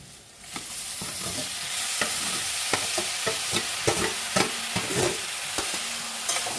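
Chopped banana flower frying in a pan while a spoon stirs it, a continuous close sizzle broken by frequent sharp scrapes and knocks against the metal.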